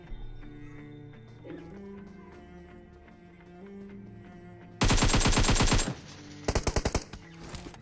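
Automatic gunfire in the PUBG video game: a long rapid burst followed by a shorter string of shots over background game music and ambience, loud and close.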